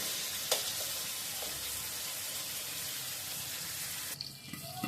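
Prawns fry with pointed gourd in a pan, giving a soft, steady sizzle under a low hiss, with a couple of faint clicks and a brief utensil clatter near the end.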